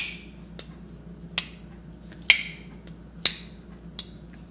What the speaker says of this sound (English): the noise, whenever it's accompanied by the action of the knife, is just very, very pleasing.